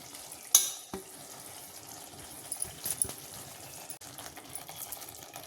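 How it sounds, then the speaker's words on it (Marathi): Onion and tomato masala fries in a pan with a soft, steady sizzle, and scattered clinks and scrapes of stirring sound faint and close. "आपला मसाला कांदा टोमॅटोचा भाजत आला आहे."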